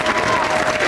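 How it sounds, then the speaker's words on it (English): Audience applause at a school science night, a steady wash of clapping from a crowd filling the whole moment, with faint murmuring underneath. "let's give Mrs. Fleming-Gloss a big round of applause"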